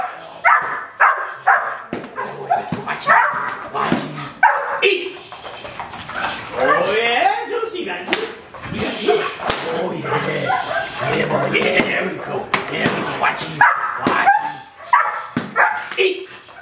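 A dog in bite training with a bungee barks and yips in sharp repeated bursts, loud and close, mixed with slapping impacts and someone talking between the barks.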